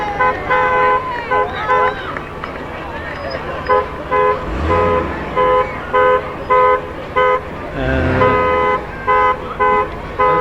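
Vehicle horns honk repeatedly at a small-town Malone parade on July 3, 2004, with steady toots rising over crowd chatter and a passing truck's engine rumble.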